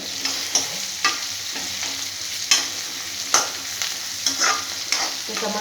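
Something frying in a pan while it is stirred, with about half a spoon of salt added, giving a steady close sizzle punctuated by regular scraping strokes of a spoon roughly every second.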